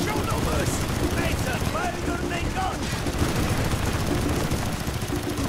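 Dense gunfire from the Call of Duty: Black Ops campaign: a steady wall of rapid automatic shots and booming blasts that runs without pause, with a voice talking over it.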